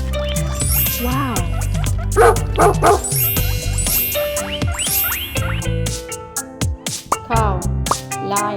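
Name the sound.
dog barking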